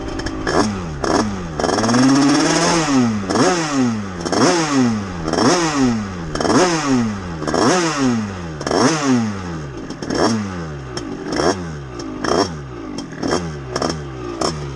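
A Gilera SMT 2013 scooter fitted with a Stage6 88 Big Racing kit and 17/53 gearing revs hard in repeated rising and falling surges, the engine note loud and close with clattering mechanical noise throughout.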